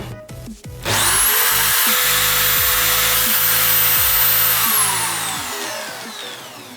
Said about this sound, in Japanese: じゃあまた逆側でドリルで穴開けしていきます。